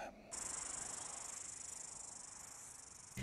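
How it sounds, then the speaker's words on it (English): Cicadas in summer heat in Masterton, New Zealand, making a dense, steady high-pitched buzzing chorus that starts abruptly and holds evenly, faint and alone without speech. "The cicadas are out in full force today in Masterton"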